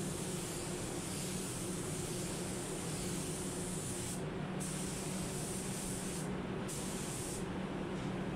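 A spray gun lays a light base coat of paint, giving a close, continuous airy hiss that breaks off for brief pauses between passes.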